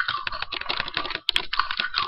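Computer keyboard keys clatter in quick, uneven bursts as someone steers a worm in a two-player Pygame game. The typing is close and steady, with no talk.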